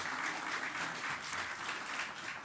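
Audience applause at a United Nations partnership forum in Jamaica, a steady, dense clapping that holds for a few seconds, fairly faint and distant.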